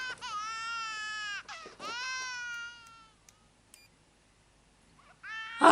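A baby wails in the TV show Pretty Little Liars, two long strained cries close together, then a quiet gap before a sharp burst of noise.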